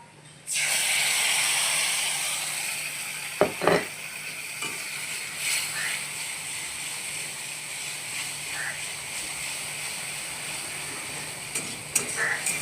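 Fried onions and soaked mustard powder paste sizzle steadily in a pan for a mustard curry with egg omelette, with a loud continuous hiss broken by a few sharp scrapes and clinks of stirring.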